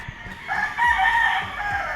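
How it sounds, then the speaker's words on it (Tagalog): A gamefowl rooster on a game farm crows once, loud and close, a drawn-out call over low background noise. "Papakita ko sa inyo mga tol, mga itsura at linyada ng mga manok ni Sir Biboy ngayon dito sa Farber Game Farm"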